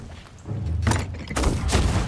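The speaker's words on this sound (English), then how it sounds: "We're taking fire from the island." Cannon fire from an island during a Sea of Thieves brig battle, two heavy booming blasts a moment apart, loud and close, with no talking.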